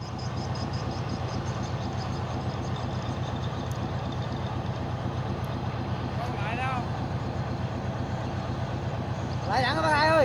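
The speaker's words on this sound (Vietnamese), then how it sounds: "Chiếc tàu kéo này có cái máy là Hino 8 rất là khủng" Tugboat powered by a Hino 8 engine, used for hauling timber, running on water with a steady, loud low-pitched diesel drone throughout, while a few chirpy sounds and faint voices appear near the end.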